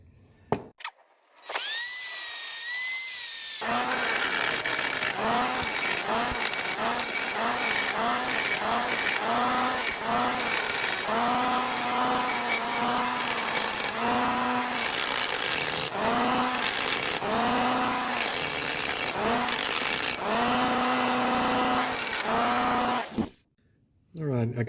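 Grinding tool working over the ports of an engine cylinder head, cleaning up and smoothing the casting line: a loud, steady whine broken into many repeated short passes, close by, with no talking.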